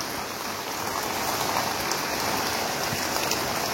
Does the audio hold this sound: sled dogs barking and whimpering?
no